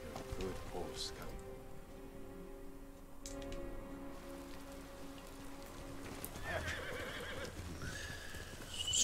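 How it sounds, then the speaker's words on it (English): A horse in Ghost of Tsushima whinnies amid clip-clopping hooves and a patter of rain, with someone speaking over the sounds. The whinny stands out near the start and then fades into the ongoing game ambience. "Good horse, Scum."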